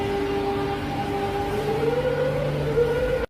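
A Madrid Metro line 6 series 8400 train runs with a steady loud rumble and a whining electric motor tone that rises and bends in pitch, heard from inside, continuous and close, with no talk.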